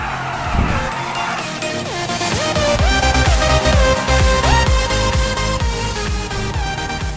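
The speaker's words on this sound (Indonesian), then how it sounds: "Nah di sini kita bakal pacu mobil ini dengan kecepatan tinggi untuk menguji uh, body dan interiornya" A Toyota C-HR in GTA 5 is driven hard at high speed: a loud engine climbs and shifts through gears, with squealing, skidding tires sweeping in and out over a constant roar.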